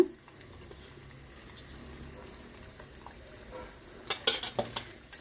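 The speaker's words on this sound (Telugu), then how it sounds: "ఇవి పోపులు ఎగుతున్నాయి కదండి" Mustard seeds and tempering spices splutter in hot oil for pulihora, a low steady sizzle building to a flurry of sharp pops and crackles near the end.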